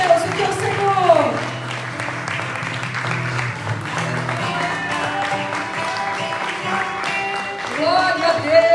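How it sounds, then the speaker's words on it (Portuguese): Church congregation applauding during a worship service, a steady wash of clapping that fills the whole clip, with sustained music or singing underneath and voices mixed in. "Aplauda ao Senhor"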